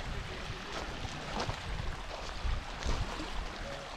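A mountain stream runs down into the sea, a steady broadband wash of flowing water with faint gurgles, continuous and close for the whole stretch.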